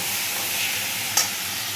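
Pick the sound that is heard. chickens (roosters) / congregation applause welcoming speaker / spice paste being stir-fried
spice paste being stir-fried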